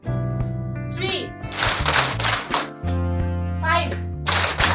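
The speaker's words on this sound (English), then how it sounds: "if I will say 3, you have to clap 3 times" A group of school students claps in unison during a classroom session, with a few loud ragged bursts of many hands over a steady electrical hum, and some children's voices around them.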